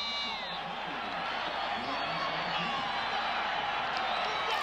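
A college football stadium crowd roaring after a touchdown and extra point in a 2001 BYU versus New Mexico game, a broad, sustained wash of distant cheering and whoops.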